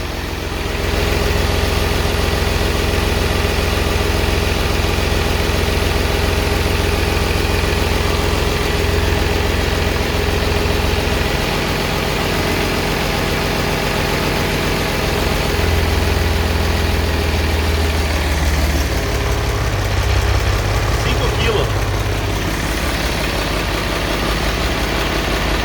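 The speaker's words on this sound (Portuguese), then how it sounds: "Funcionamento final do nosso motor aí 1621 interculado." A Mercedes-Benz 1621 truck with an intercooled OM366LA diesel engine idles steadily at close range, a continuous low rumble with even vibration throughout and no voices.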